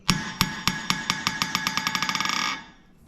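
Hammer dropped onto a Trenton anvil, ringing metallic bounces that start spaced apart and speed up into a rapid chatter before dying away after about two and a half seconds, close and clear.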